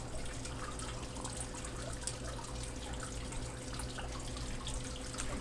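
Water runs steadily through a Blue Bowl gold concentrator, a constant close trickle and splash with a faint steady hum beneath, no voices.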